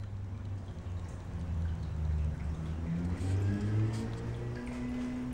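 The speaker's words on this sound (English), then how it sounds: "big truck pulling up outside." A big truck pulls up outside a house, heard from indoors as a steady, loud low engine rumble that rises slightly in pitch as it approaches.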